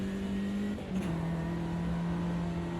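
The Ginetta G40 race car engine in Automobilista 2 at Brands Hatch holds a steady mid-pitched drone with a brief dip and shift in tone, continuous and fairly close, with no talking.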